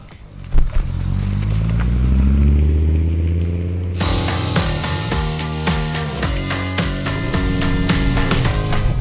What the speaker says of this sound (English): Oh Tom, 1989 Audi Quattro, and that 5-cylinder noise is so lovely. Absolutely, you can hear a little bit of turbo whoosh in there